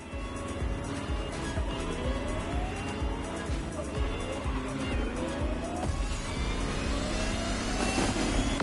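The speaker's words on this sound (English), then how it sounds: "The Lamborghini Terzo Millennio like you've never seen it before." A Lamborghini Terzo Millennio racing in the video game The Crew Motorfest, its powertrain rising and falling in repeated revving sweeps under steady road and wind noise, with some talking over the top.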